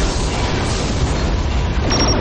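A Borg vessel blows up in the Star Trek Legacy space game, a dense, rumbling boom-like burst that fills the short moment without a clear onset, with a thin high tone near the end.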